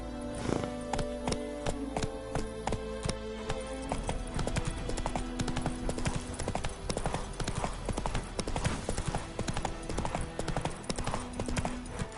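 Roach, Geralt's horse in the video game The Witcher, gallops on steadily with rapid, rhythmic hoofbeats over a continuous bed of game ambience and music, and a faint voice comes through in places.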